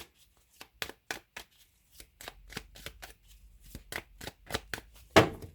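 Close, quick handling of a tarot deck: a run of sharp card snaps and flicks in an uneven rhythm that grows denser, ending on a louder riffle as five cards are drawn, with no talking.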